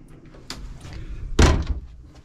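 A cabin door to the head aboard an Allied Princess 36 ketch sailboat swings and shuts with a single solid thump mid-clip, preceded by a lighter knock, close by in a quiet interior.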